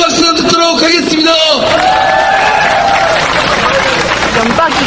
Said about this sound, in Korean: 힘찬 박수 듣도록 하겠습니다